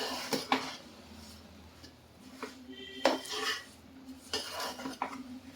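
Spoon scraping and clinking against a pan while sesame ladoo mixture is stirred, with a few sharp metallic knocks and soft scraping in between, close and moderately loud.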